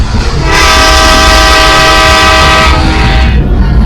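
A loud, continuous video game train rumble with a sustained horn tone blaring over it for a few seconds, then fading back to the rolling rail noise.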